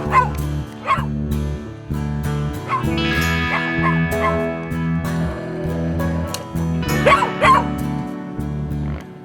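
Several dogs bark and yip in Mexico beside an off-road race course among trophy trucks, with sharp repeated barks and a whimper over a loud, steady engine drone.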